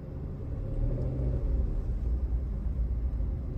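A car in a driving lesson in Pakistan creeps forward and backward, its engine a steady low rumble with no pronounced revving, heard up close and unbroken throughout.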